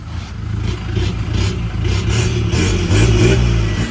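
A Toyota Hilux Revo Rocco pickup's engine, fitted with an electric valve bypass exhaust, revs in repeated blips, its deep exhaust rumble swelling louder toward the end, with no one talking.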